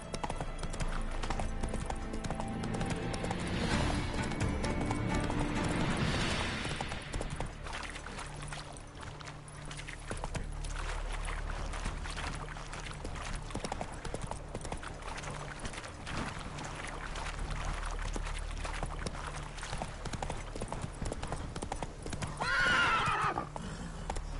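In the video game The Witcher 3, a horse's hooves clop rapidly in a steady gallop, with a whinny near the start and another loud neigh near the end, over game ambience.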